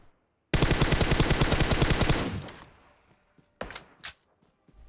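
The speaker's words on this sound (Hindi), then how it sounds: "मेरा टीममेट वहीं से गोलियां पेल रहा है" A long rapid burst of automatic gunfire in PUBG Mobile, loud and close, trailing into echo, then two short bursts follow.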